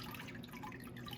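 Water drips and trickles faintly from a freshly formed sheet of recycled paper pulp, with flower petals mixed in, sitting in a papermaking mould; a soft, steady, close wet patter with no talking.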